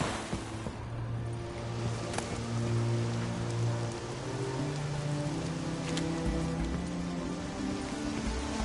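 Steady rain falls in a PS4 video game, a dense even hiss of drops with low tonal game music or ambience running underneath and no talk.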